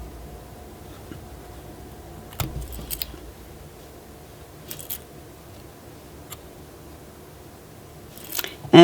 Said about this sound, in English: just insert it in those loops and give it a cut